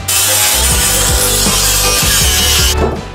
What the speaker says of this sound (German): Schleifen.